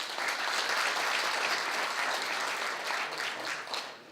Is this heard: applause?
yes